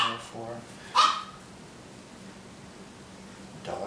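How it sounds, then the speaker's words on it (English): Dogs bark in the distance, a few short barks rising over a quiet background hiss. "Dogs are barking."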